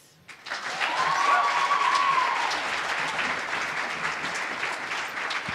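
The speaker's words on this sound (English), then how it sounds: "A better round of applause for Embakasi Girls for that amazing performance there." An audience at a strategic plan launch event applauding a girls' school group after a performance, sustained dense clapping that starts abruptly and holds steady, with a brief whistle early on.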